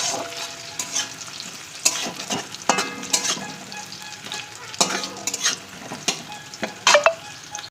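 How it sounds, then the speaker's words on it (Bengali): Onions frying in a pan, a steady sizzle broken by repeated scraping and clinking strokes of a spatula stirring, close and fairly loud, with no talking. "পেঁয়াজটাকে সুন্দর করে লাল লাল করে ভেজে নিতে হবে।"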